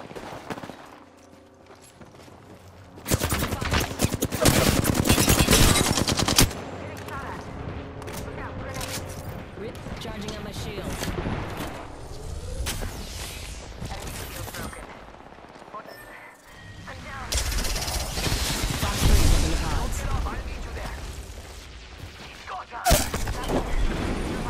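Heavy gunfire from a shooter video game, with dense bursts of shots and bangs swelling loud near the start and again toward the end, mixed with scattered impacts and spoken callouts throughout.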